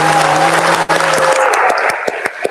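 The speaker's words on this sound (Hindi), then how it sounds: "जरा अपने लिए तालियां बजाएं पहले, प्लीज तालियां बजाएं।" Loud crowd applause at a political rally: a dense roar of clapping that thins toward the end into scattered, distinct claps, heard close and without speech.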